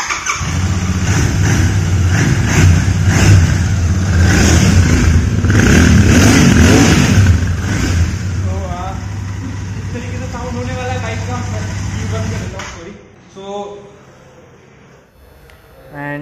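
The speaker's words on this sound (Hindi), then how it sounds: "ये आपने इसका साउंड सुना होगा जीटी का।" A 2023 Royal Enfield Continental GT 650 parallel-twin motorcycle engine is revved up loudly and close, then settles into a steady idle before cutting off, with someone talking briefly near the end.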